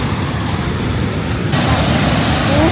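A waterfall at Paronella Park gives off a steady, broad rush of falling water that stays constant and fairly loud, with no clear voices over it.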